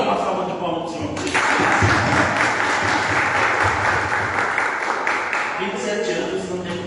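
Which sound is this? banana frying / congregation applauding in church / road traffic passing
congregation applauding in church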